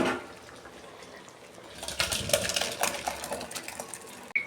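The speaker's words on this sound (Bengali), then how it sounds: "ডাল হয়ে গেছে, আমি ঢেলে ফেলছি।" Cooked lentil dal with vegetables being poured from a pot, a quiet wet splashing and glugging burst after a near-silent start, ending with a soft clunk.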